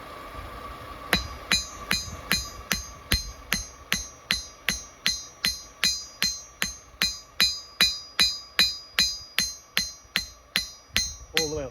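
A 1.5 pound rounding hammer forges a spring steel knife blade, striking metal in a steady, even rhythm of about two dozen ringing blows, each followed by a short decay. The strikes are close and clear.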